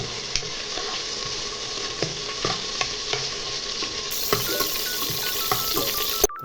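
Whole spices like cumin, cinnamon, cloves and cardamom frying in oil for rajma masala, a steady close sizzle running throughout with regular light scrapes and taps of a spoon stirring, no voices.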